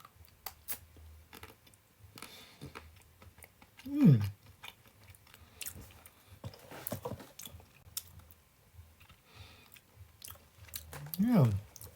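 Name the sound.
chewing pink gin alcohol chocolates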